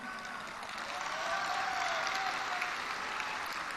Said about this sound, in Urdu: آپ کو تالی مار رہے سب لوگ، لاہور کے لوگ